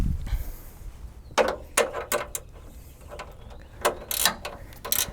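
Ratchet wrench clicking in short bursts while bolts are tightened on the front overline fender of a 2015 Jeep Wrangler JK, close and fairly quiet, with pauses between sets of clicks.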